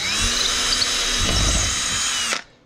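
A power drill whirs loudly and steadily as it bores a hole through drywall to hang an IKEA LACK shelf, the bit breaking through before the motor cuts off abruptly after about two and a half seconds.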